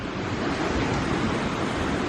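A clear creek in Oregon's Coastal Range rushes past in a dense, constant wash of flowing water, close and steady with no pauses.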